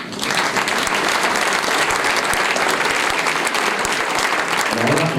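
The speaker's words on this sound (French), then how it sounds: "vous pouvez l'applaudir" An audience at a municipal New Year's greetings ceremony in Mont-de-Marsan applauds rugby player Alexandre Denardi. A loud, dense burst of clapping from many hands starts abruptly and continues steadily throughout.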